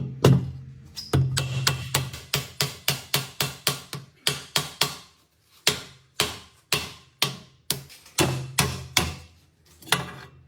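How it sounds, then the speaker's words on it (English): Repeated loud metal hammer blows on a Volkswagen catalytic converter in quick bursts, sharp ringing strikes with short pauses between groups, close up. "Now we have to hammer more and more"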